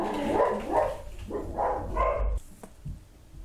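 Several dogs barking in a home during a board game discussion, a run of four loud, close barks in quick succession followed by a couple of softer yips.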